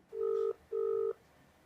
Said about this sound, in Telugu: అనితకి మనం ఫోన్ చేయబోతున్నాం.